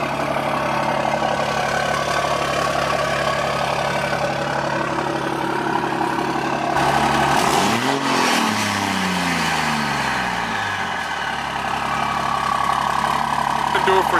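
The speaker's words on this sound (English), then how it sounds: "It's good to let your truck warm up before you drive her." Third-gen Ram with a Cummins 6.7 diesel idling to warm up, a steady low rumble that briefly revs and sweeps up and down partway through, then settles back to idle, with a person talking over it.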